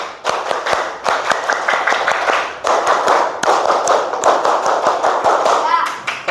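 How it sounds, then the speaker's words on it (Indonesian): A school class doing the Indonesian scout clap (tepuk pramuka), a sharp rhythmic pattern of many hands clapping together in quick bursts, repeated twice and filling the whole stretch, with some voices among the claps. "Kalau senang coba 2 kali tepuk pramuka."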